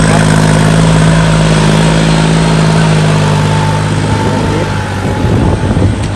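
A Kubota L4018 tractor engine runs steadily and loudly up close, a continuous chugging drone with no pauses, while the machine plows a rice field.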